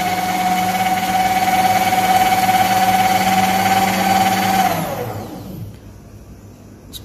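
A paper shredder feeding documents through its slot runs with a steady, loud motorized drone for several seconds, then winds down and stops, leaving quiet room tone.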